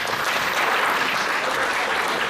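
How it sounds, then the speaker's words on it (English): An audience applauds children who have just performed on stage at an Indian community meet-and-greet event, a dense, steady wash of clapping filling the whole moment without a break. "a big round of applause"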